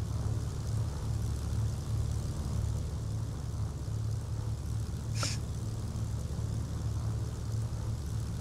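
A Mooney M20J single-engine propeller aircraft taxiing toward the runway, with a steady low engine and propeller drone heard from inside the cabin and a brief click partway through.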